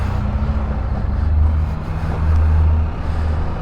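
A racing minivan pulls away after its parking brake is released, a loud, steady low engine rumble that swells twice as it gathers speed, heard close with no talking.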